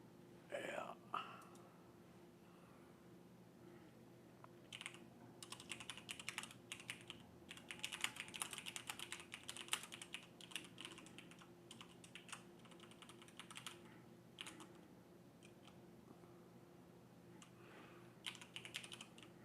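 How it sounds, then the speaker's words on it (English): Someone types on a computer keyboard during a Star Citizen live stream, with irregular bursts of quick, light keystrokes that come and go over a steady low hum. Faint whispered speech is heard now and then. "My typing's terrible."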